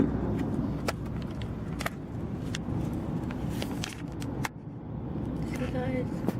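Car idling in slow road traffic, a low steady engine rumble inside the cabin with occasional clicks and light knocks, while a person talks over it.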